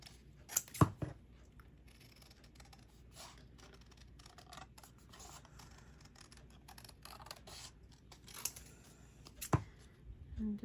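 Scissors cut out pieces with a few sharp, isolated snips near the start and toward the end, separated by quiet rustling and handling noises.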